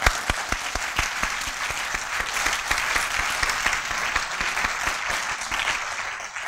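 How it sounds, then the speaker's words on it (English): Audience at a 2011 graduation ceremony breaks into steady, loud applause, dense clapping with sharp individual claps standing out, sustained throughout and easing slightly at the end. "I want to applaud."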